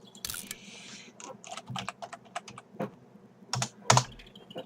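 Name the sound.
typing on a computer keyboard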